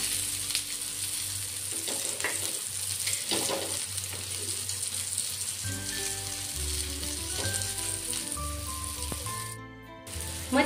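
Surmai fish pieces frying in oil over a low gas flame, a continuous soft crackling sizzle with a few faint clinks of utensils near the end.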